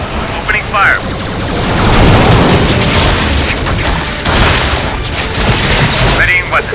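Weapons fire and explosions in a Star Trek video game: dense, loud rumbling booms and bursts roll on continuously, with brief voice fragments near the start and end.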